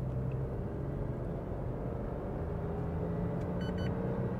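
A Citroen C3 Aircross SUV engine pulling in third gear, a low, even drone heard from inside the cabin, steady and moderately loud with no talk.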